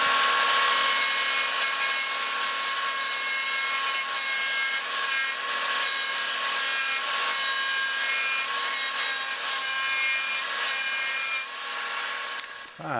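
A solid brass hammer head being turned down to 1.25 inches on a lathe, giving a loud, steady scraping cut with sustained metallic ringing tones. It continues unbroken for about twelve seconds and then slows at the end.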